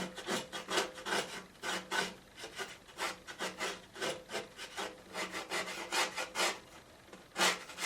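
A fingernail scratches and rubs across watercolour paper while painting a lake scene, making a run of dry, rasping strokes in quick irregular bursts, close and fairly loud, with no voices.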